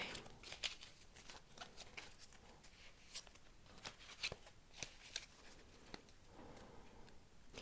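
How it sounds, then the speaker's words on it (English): Tarot cards being shuffled close up, a run of crisp riffling flutters and soft slaps with brief pauses, fairly quiet with no talking. "So let's shuffle the deck"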